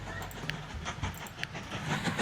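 A bullet train rolls past in the railway game Mashinky, a steady rumbling pass with rhythmic clickety-clack wheel taps, moderately loud, and no talk over it.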